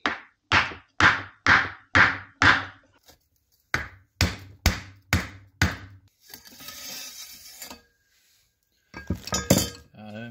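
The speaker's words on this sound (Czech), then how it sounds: "Nakonec jsem našel takovouhle krásnou ideální nerezovou trubku, zaprasím to tam kladivem." A hammer drives a stainless steel tube over a piece of wood to seat the fork seal of a Husqvarna TE 610 motorcycle. Two bursts of five sharp, ringing metallic blows in steady rhythm, close and loud, followed by scraping and handling noise.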